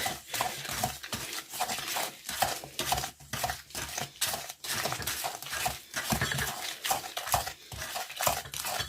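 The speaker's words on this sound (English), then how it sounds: "So it's in the mixing bowl, so give that a good mix in as well." An egg white is mixed into a biscuit mixture in a mixing bowl for Halloween ghost biscuits, with quick rhythmic scraping and clattering strokes repeating steadily, close and continuous, with no talk.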